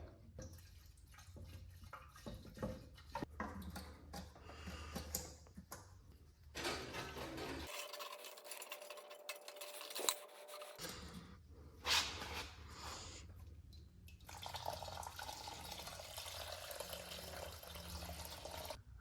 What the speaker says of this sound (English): I'm going to pour just a little bit of fresh gas into here, shake it around